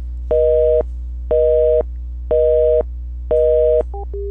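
A busy signal from an Asterisk voicemail system: four evenly spaced half-second tones with equal gaps, loud and clean over a steady line hum, followed by a couple of short trailing beeps.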